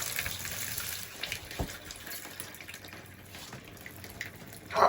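Water pours steadily from a tap, a continuous broadband hiss with a few splashy drips and a brief louder gush at the end, with no talk over it.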